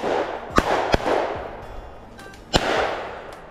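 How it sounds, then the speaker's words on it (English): Shotgun blasts during a ruffed grouse and woodcock hunt in the woods, three sharp reports, two close together then one after a pause, with faint rustling between. "Nice shot, Andrew."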